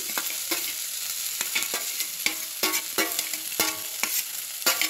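Pieces of pangas fish frying in oil with spices, giving a steady close sizzle broken by repeated sharp crackles and clinks as the fish is stirred.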